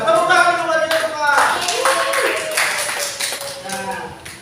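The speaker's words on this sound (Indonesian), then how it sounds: "Tepuk tangan dulu buat kita semua." Students in an Indonesian language class clap their hands together, with scattered sharp claps running under loud voices and cheering.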